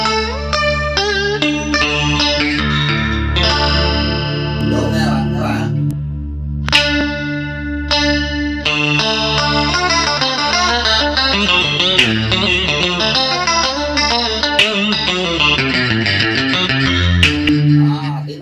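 Classical Vietnamese cổ nhạc guitar played through a Nux MG300 multi-effects pedal, with echo and chorus-like shimmer on plucked melodic lines over sustained low notes. It plays continuously and fairly loud, with no talking.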